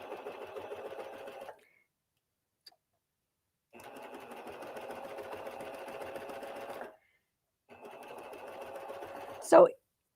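A Baby Lock Accolade coverstitch machine runs a top stitch in three bursts, steady rapid whirring for a few seconds each with quiet pauses between, close and clear, ending with a short sharp clunk.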